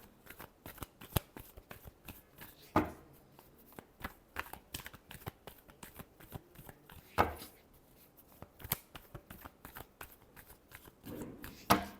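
Tarot cards being shuffled by hand, repeated crisp riffling bursts and soft taps in irregular rhythm, close and alone.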